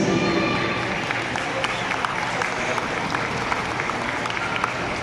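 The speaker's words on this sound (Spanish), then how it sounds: "recibimos con un fuerte aplauso" Crowd applause at an outdoor Children's Day celebration at a sports complex in Naolinco, a steady wash of clapping that carries on evenly for several seconds.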